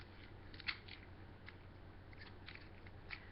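Small plastic clicks and snaps sound as the feet fold out on a Masterpiece Wheeljack transforming toy, a handful of faint, sharp ticks spread over a quiet background.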